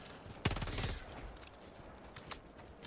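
Shotgun blast in Helldivers 2, one loud sharp report with a short rumbling tail, followed by faint scattered battle noise and a couple of distant pops.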